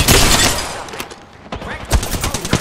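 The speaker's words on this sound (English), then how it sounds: "I am taking fire" Rapid gunfire in the battle royale game Apex Legends crackles in dense volleys, close and loud, easing briefly in the middle before more shots resume.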